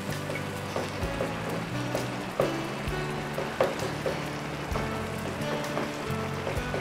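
Water poured into potatoes frying in a karahi, a steady loud sizzle and bubbling hiss with sharp spitting pops scattered throughout, no talking.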